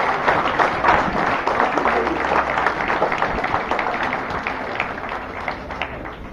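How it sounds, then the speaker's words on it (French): Applause and cheering from a street crowd at a town associations parade in Le Carbet, greeting the Olympique Club swimming team; dense, steady clapping runs throughout at close range, with some voices mixed in. "Nous applaudissons très fort ces mesdames et messieurs."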